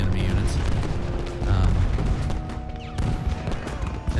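Cannon fire from Civil War artillery batteries in Ultimate General: Gettysburg, deep booms and rumbling volleys rolling over a busy battlefield din, with a louder burst midway and another near the end.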